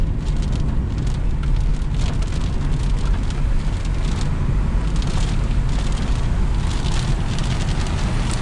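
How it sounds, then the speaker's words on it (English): Rain falls outdoors as a steady, loud, dense hiss with broadband patter, likely mixed with wind, continuous for about eight seconds with no talking. "You can see it has started raining already."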